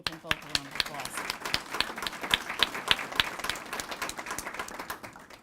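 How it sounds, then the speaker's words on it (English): A room audience applauds two law enforcement leaders at a Nassau County school and community safety task force meeting, sharp claps rising steadily over about five seconds at moderate loudness, with no talking. "I'd like to give them both a round of applause."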